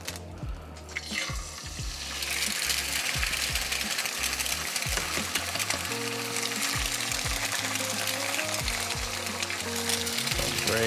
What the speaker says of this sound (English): Right, here we go, we're gonna cook off the egg.